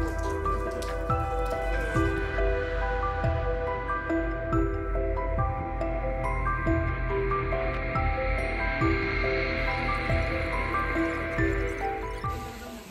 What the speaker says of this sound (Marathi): एवढा पाऊस लागलाय तुफान